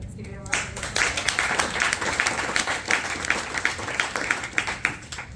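An audience applauds at a startup fireside chat, with dense, lively clapping that rises sharply after a quiet start and keeps a rapid, uneven patter throughout.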